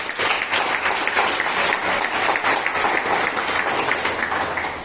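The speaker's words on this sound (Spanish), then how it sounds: "Dale un aplauso a Kevin Rey" Steady, dense applause from a church congregation fills the space, a broad wash of many hands clapping evenly throughout with no voices rising above it.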